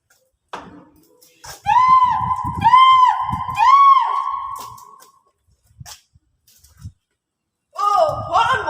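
A thief screams in a staged folk story about Lamongan catfish, three loud drawn-out wailing cries in quick succession, followed after a pause by another sharp vocal outburst.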